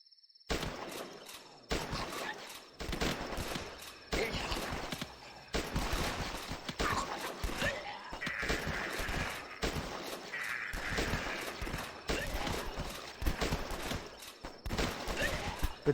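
Rifle fire in the zombie game The Last Stand, repeated bursts of sharp shots in rapid succession, fairly loud and nearly continuous with brief pauses between volleys.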